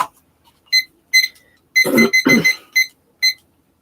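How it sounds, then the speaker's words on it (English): Several short electronic beeps from a timer being set, spaced irregularly, with a longer double burst in the middle; close and fairly clear with no talk. "Oh, I can set the timer."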